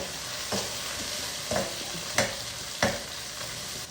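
Two large onions frying with cumin seeds for chickpea biryani, a dense bright sizzle punctuated by four distinct scraping stirs of the spoon, loud and close with no speech.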